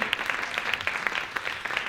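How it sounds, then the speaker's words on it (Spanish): An audience applauds at a Spanish-language talk on curatorial lines, a dense, steady patter of many hands clapping throughout, moderately loud with no clear pauses. "¿Quién iba a aplaudir? Aplaudan."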